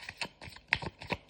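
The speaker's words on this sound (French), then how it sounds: "Je vais tirer des cartes de l'Everyday Witch Tarot" Tarot cards from the Everyday Witch Tarot deck are shuffled close up, a quick run of soft, crisp card flicks in a light irregular rhythm.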